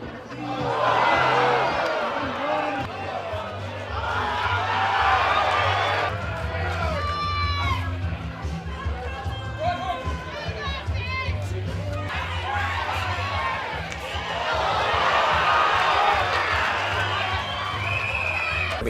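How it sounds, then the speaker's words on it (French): An enthusiastic crowd packs a boxing tent in Australia as volunteers step up to fight, a dense mix of cheering, whoops and shouting chatter that swells and falls throughout, with voices talking over it. "des volontaires viennent donc les défier sous un chapiteau rempli d'une foule enthousiaste"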